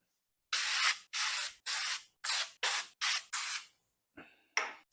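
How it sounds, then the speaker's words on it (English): A series of short cooking spray bursts onto parchment paper, seven quick hisses in a row followed by a brief pause and two more, close and fairly loud. "you're supposed to spray the parchment paper with cooking spray"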